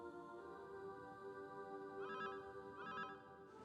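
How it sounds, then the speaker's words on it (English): A phone rings in the Dragon Quest Monsters: The Dark Prince game, two short electronic ring bursts sounding over steady in-game background music, with no talking. "No time for that. Phone call."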